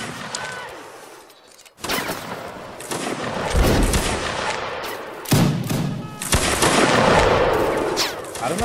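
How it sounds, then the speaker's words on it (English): Gunfire in a video game as enemies shoot through a wall: loud bursts of rapid automatic shots and heavy thuds, starting after a brief lull and recurring in clustered volleys close to the listener. "They're trying to shoot me through the wall."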